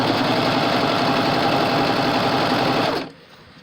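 A serger stitches knit fabric to woven stretch cotton sateen, running loud and steady with a fast mechanical whir for about three seconds before stopping abruptly.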